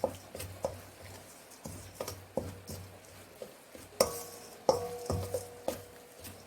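A spoon scrapes and taps around a bowl as a seasoning paste with chili powder and salted shrimp is stirred for cucumber kimchi, giving steady rhythmic clicks and scrapes about twice a second, close and fairly quiet.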